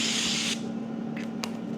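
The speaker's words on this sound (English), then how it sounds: "spray it with some olive oil" Olive oil spray hisses from a can onto a pan in a short burst of about half a second, followed by faint scraping and clicks over a steady hum.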